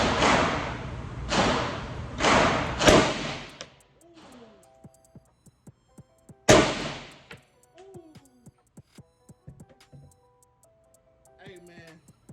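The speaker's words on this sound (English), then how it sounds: "Let's get these shots off," PSAK47 AK-47 rifle in 7.62x39 firing: a few sharp, loud shots in quick succession, then one more after a pause, followed by faint clicks and handling noises with a voice briefly audible.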